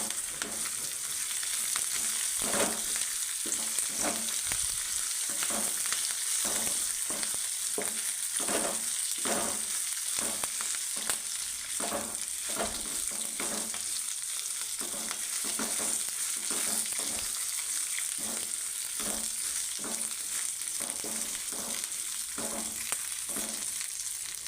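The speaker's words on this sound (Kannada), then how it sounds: "ಕರಿಬೇವಿನ ಸೊಪ್ಪನ್ನು ಸಹ ಒಂದು 5 ರಿಂದ 6 ನಿಮಿಷ ಹುರ್ಕೊಳ್ಳೋಣ" Curry leaves fry in a pan with a steady, close sizzle, broken by regular scraping stir strokes throughout; no one speaks.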